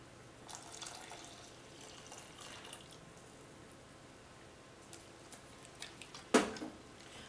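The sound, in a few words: pouring water into whole wheat flour for cracker dough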